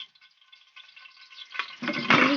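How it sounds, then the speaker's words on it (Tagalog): Hot cooking oil in a pan for sautéing while making fried milkfish sinigang: faint light crackles swell into a louder, dense sizzle over about a second, with no talking. "So, ayan, nagpainit na tayo ng mantika."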